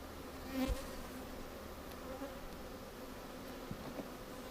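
Honeybees buzz steadily around an open hive during an inspection after a swarm, a low continuous drone at moderate distance with no talking over it.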